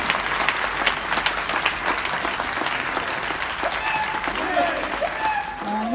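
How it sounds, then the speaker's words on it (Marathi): An audience applauds at a record-setting event, loud dense clapping sustained throughout, with a voice speaking over it near the end. "टाळ्या थांबल्या नाही पाहिजे."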